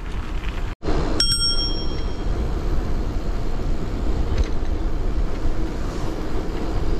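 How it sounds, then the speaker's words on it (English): A hire bike's bicycle bell rings once, close and loud, and its bright tone fades over about a second against steady outdoor wind and traffic rumble. "the bell works nicely"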